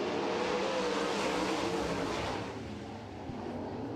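Sprint cars roar off turn four at the green flag during an All Star heat race at Waynesfield Raceway, Ohio: a dense, continuous engine drone that holds loud, dips slightly, then swells again.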